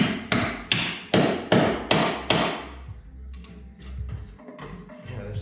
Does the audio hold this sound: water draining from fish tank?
no